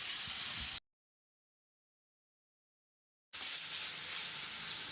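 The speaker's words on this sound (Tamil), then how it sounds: "1 நிமிஷம் இதை வதக்கி விட்டுடலாம்." Carrot and drumstick pieces sauté in a pan for moong dal sambar, giving a steady sizzling hiss that cuts out completely for a couple of seconds before the frying resumes.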